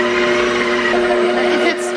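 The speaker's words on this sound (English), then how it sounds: "So I'm gonna go on and let this knead for about 5 minutes." A stand mixer kneading bread dough hums with a steady, loud motor whine and a faint rattle that runs throughout, with no voice over it.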